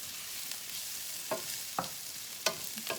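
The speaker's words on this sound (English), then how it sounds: "Trying to get my onions soft," Onions softening in a hamburger pan over medium heat, a low steady sizzle broken by a few sharp spatula scrapes and taps against the pan.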